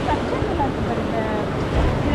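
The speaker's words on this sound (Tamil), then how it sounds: "இங்கே பாரு தண்ணி எப்படி அடிச்சுட்டு இருக்கு" Sea waves washing onto Pondicherry beach at night, a continuous rushing surf with wind buffeting the microphone, fairly close and steady.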